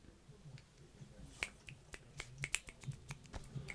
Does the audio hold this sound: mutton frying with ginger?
no